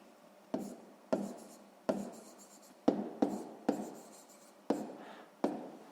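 Pencil writing on paper while working a sixth-grade math exercise: eight crisp, evenly spaced strokes scratch out close and clear, each a sharp attack that fades, with no talking.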